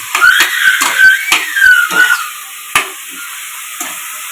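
Fenugreek leaves fry in a hot pan with a close, steady sizzle, broken by several sharp scraping strokes of a spatula and a few later clacks as the sizzle settles.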